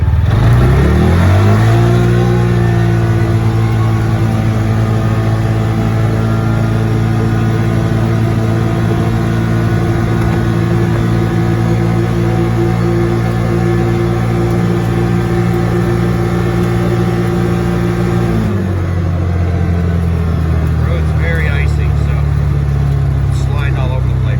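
A CFMoto Uforce 600 fitted with an RNG clutch kit climbs to a steady, loud engine drone and holds high revs. It then drops to a lower pitch toward the end, recorded close from on board.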